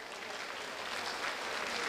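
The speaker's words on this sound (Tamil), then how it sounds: "கைத்தட்டலாமே." Dense, continuous applause from a large crowd of roughly 2,250 people at a Thanigai Estates entrepreneurship event, steady and full-bodied for the whole stretch.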